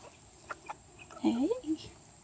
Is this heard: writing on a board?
no